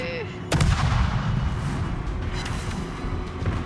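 A loud warship cannon blast in a video game erupts with a sharp crack, followed by continuous rumbling booms and scattered distant shots of heavy gunfire, like a naval battle.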